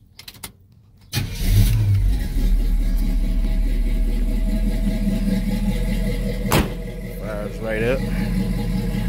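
An 85 Chevy C10 long bed truck with a Chevy Vortec engine starts up and runs at a steady, loud idle close by, with a brief sharp burst and short speech near the end.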